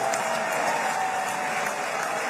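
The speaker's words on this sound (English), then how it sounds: "He's got people standing up and applauding." Steady applause from a crowd, dense clapping filling the whole stretch with no pauses.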